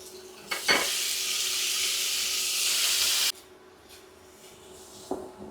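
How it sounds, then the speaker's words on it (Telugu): Onion, garlic and tomato frying in a pan make a loud, steady sizzle with stirring scrapes for about three seconds, then the sizzle drops away to a quiet background hiss with a few light knocks. "ఆనియను, తెల్లగడ్డ, కొంచెం వేగిన తర్వాత టమోటా వేసుకోవాలి."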